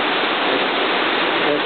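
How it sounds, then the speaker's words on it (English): Steady, dense rain falls outside a room housing a bronze Japanese Buddhist temple bell, heard as an even, unbroken hiss of fairly loud, close downpour with no talk over it. "As you can hear, the rain's coming down."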